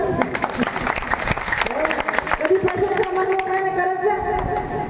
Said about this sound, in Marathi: वा वा, वाजवा टाळी.